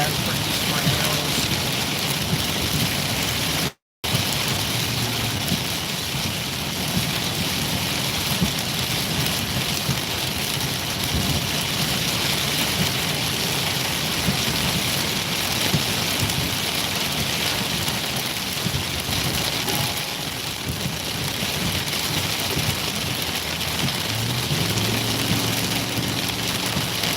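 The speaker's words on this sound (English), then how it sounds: "I don't know if you can hear, but the rain's picked up quite a bit." Heavy rain pours steadily in a tornado-producing storm cell in Minnesota, a dense, loud hiss drumming on surfaces that holds without letup.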